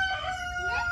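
Chickens cluck and call at a farmyard coop where newborn chicks and ducks are kept, a close, fairly quiet burst of fowl voices with no talking over it.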